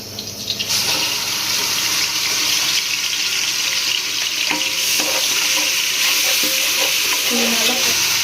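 Cardamom and shallot paste for biryani frying in a pan, a steady loud sizzle with stirring scrapes and occasional clinks throughout.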